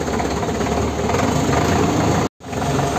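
A Preet 6049 tractor engine runs loud and close with a steady, throbbing drone, broken by one brief dropout before it resumes.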